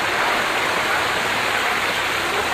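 Water flows steadily in Oxygen Park in Ranchi, a loud, close, continuous rushing hiss with no pauses and no voices.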